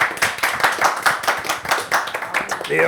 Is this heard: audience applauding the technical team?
yes